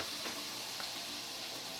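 A faint, steady sizzle of butter and olive oil in a hot skillet, soft crackling hiss throughout with no talking.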